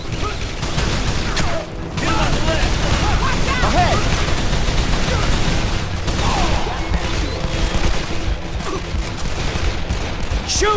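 Heavy gunfire in Call of Juarez The Cartel, a dense near-continuous barrage of loud shots and bursts layered with impacts, running almost the entire time with only a brief dip early on.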